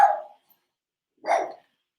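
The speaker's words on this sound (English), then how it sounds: "And that's my dog." A dog gives two short barks, close and moderately loud, spaced about a second apart with silence around them.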